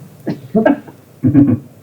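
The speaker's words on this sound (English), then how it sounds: "Turn your head and cough" Three short, throaty coughs or cough-like grunts, close and separated by brief pauses.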